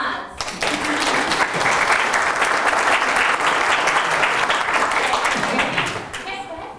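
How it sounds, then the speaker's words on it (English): Sustained audience applause closing a recycling presentation in Massachusetts, a full room of hands clapping steadily for about six seconds before tapering off. "Round of applause."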